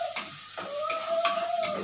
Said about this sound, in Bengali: দেখো এই চালটাকে আমি একটু ভেজে নিচ্ছি।